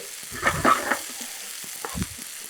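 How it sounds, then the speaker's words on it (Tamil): Chicken and potato curry base with green chilies is sautéed in a pan, a low background sizzle broken by a few close stirring scrapes and knocks, no voices. "இதை வந்து ஒரு 2 நிமிஷம் நம்ம நல்லா வதக்கி எடுத்துக்கலாம்."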